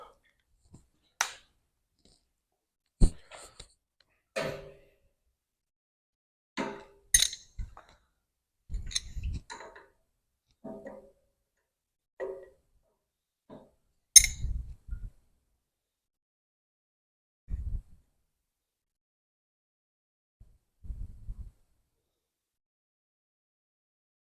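Hand tools on an International Harvester 140 tractor's carburetor give sparse, sharp metallic clicks and clanks, scattered irregularly with quiet gaps between them during removal, with a voice occasionally speaking.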